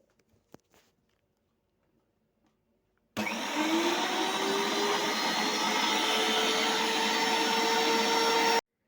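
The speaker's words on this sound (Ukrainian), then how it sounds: "І перці і чесник перемелюємо через м'ясорубку." After quiet, an electric meat grinder starts abruptly and runs with a steady, loud motor whir, grinding peppers and garlic for several seconds.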